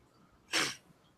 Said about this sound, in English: I can like let out the most loudest sneezes ever